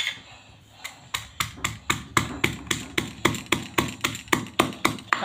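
Green chillies being pounded in a mortar in a Gujarati village kitchen: a steady series of sharp, evenly spaced thuds, close and loud, speeding up slightly after a few slower first strikes.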